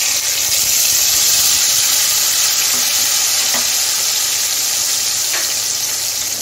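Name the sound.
spice paste frying in oil with cumin and bay leaf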